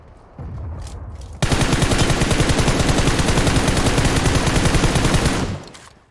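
A long, loud burst of rapid machine-gun fire in PUBG Mobile's heavy-weapons mode, steady and continuous for several seconds after a short rumble, then it cuts off abruptly.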